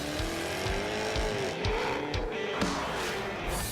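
A Jaguar sports car engine revs hard with rising and falling tones while tires squeal and skid in short bursts, loud and close, like a high-energy car commercial.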